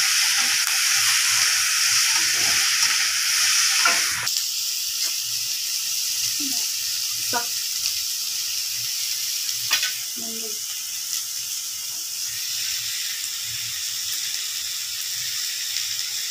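Fish, a small tengra catfish, sizzles steadily in hot oil in a home kitchen, a loud continuous frying hiss with occasional clinks and stirring knocks.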